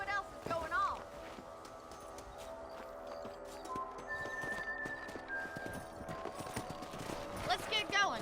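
Horses clip-clop in the video game Red Dead Redemption, a steady patter of hooves on hard ground, close, with a whinny and occasional game music and effects.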